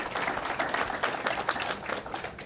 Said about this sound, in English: giving them a big round of applause for the time that they put in